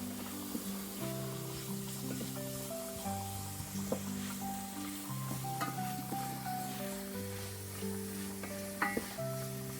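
Onions frying in a pan for a chicken and mushroom risotto, a steady close sizzle with occasional stirring clinks, while a low musical tone runs faintly underneath.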